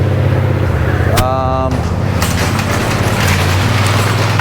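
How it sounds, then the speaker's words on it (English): Cars pull out nearby on a street in a low, continuous engine rumble with a short horn-like tone, mostly under a person talking. "Sorry, we got cars pulling out here."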